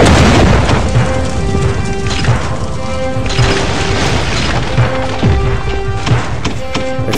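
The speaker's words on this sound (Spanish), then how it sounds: "Este misilazo me ha disparado" Missile strikes explode in a Pirate Core naval PvP ship battle: repeated heavy booms and crashing impacts, loud and close, over continuous battle noise and a sustained musical drone.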